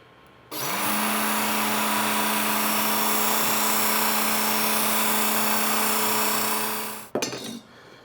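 Work Sharp Knife & Tool Sharpener, Ken Onion Edition, runs steadily with a loud motor hum and belt whine while grinding a butcher knife, then stops abruptly, leaving a brief clatter.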